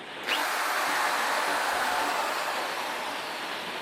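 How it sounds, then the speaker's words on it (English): A power drill bores through the bottom of a plastic garden pot, a loud continuous whining grind that starts suddenly and runs steadily with slight roughness, close by and without voices. "put this drill through the bottom of this pot"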